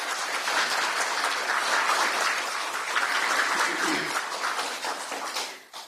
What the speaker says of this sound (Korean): 김문수 후보님께 다시 한번 뜨거운 박수 부탁드립니다